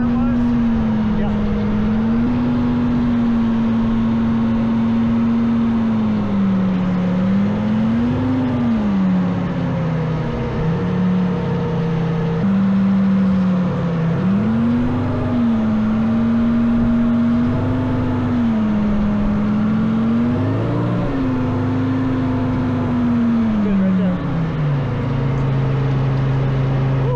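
An FV434 tracked armoured vehicle's engine drones loudly and continuously while being driven, its pitch rising and falling as the throttle changes, with no voices.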